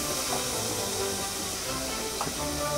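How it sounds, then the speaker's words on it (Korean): Bacon sizzles in a frying pan over medium heat as its fat renders out, a continuous broadband hiss with faint spitting, no voices. "바로 중불로 낮춰주고, 이 베이컨에서 기름이 알아서 나오도록."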